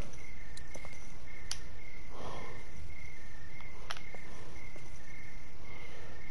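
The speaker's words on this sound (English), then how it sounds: "The crickets." Crickets chirp outdoors in a steady, faint high trill that runs without pause, with a few sharp clicks and light rustles scattered over it.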